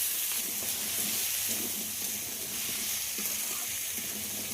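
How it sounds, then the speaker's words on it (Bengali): Cut potatoes frying in hot oil with browned onions for a Bengali bhetki fish-bone chorchori, giving a steady close sizzle with faint stirring scrapes throughout. "আলুটাকে একটু লাল করে ভেজে নেব।"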